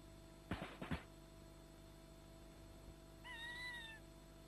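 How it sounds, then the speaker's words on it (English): Two brief knocks are followed by a single short, fairly quiet cat meow over a low steady hum. "Cat."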